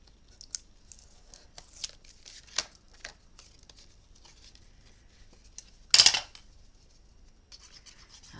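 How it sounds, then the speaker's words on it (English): Adhesive tape has its backing peeled off in a quiet room: soft scratches and rubs give way to one short, loud tearing rip, followed by faint rustling. "take our backing off our tape"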